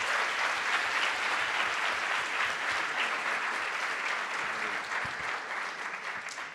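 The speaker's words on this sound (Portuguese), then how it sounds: "Salva de palmas aí para 4MTI." A round of applause from the hackathon audience for team 4MTI, a loud, dense and sustained clatter of many hands clapping that eases off slightly toward the end.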